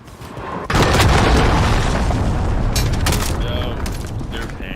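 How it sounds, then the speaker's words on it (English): Heavy, sustained boom of a cruise missile strike in a first-person shooter game, a sudden loud blast swelling into a long rumbling roar that lingers for several seconds with scattered crackling debris, while a player talks over it. "Allied cruise missile away"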